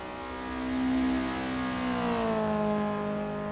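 A Toyota AE86 engine with a tinny, tin can exhaust drones steadily in Assetto Corsa EVO, holding a moderate whirring rev that swells slightly and eases with no talking.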